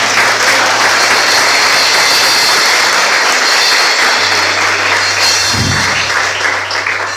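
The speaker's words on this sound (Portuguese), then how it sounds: "Uma salva de palmas ao Senhor" A church congregation applauds in a large room, a loud continuous roar of many clapping hands held steadily for several seconds, with a low hum running underneath.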